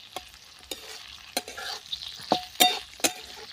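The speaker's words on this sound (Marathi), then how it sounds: "आता यामध्ये आपण लसूण आणि हिरवी मिरची थोडीशी तेलावरती 2 मिनटं परतून घेऊया आपण" Garlic and green chilies frying in oil alongside cluster beans, sharp spatula scrapes and clacks against the pan every half second or so over a quiet, steady sizzle.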